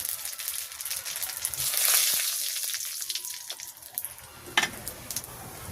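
Radhuni seeds crackling as a tempering in hot oil in a village kitchen wok, a continuous sizzle with scattered sharp pops and a louder burst near the end, no talking.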